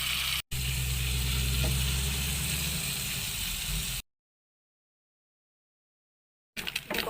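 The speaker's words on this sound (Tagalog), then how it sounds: "Prito na natin yung bacon" Bacon frying in a pan gives a steady, close sizzle with crackling for about four seconds, then cuts to silence before the sizzle briefly resumes at the end.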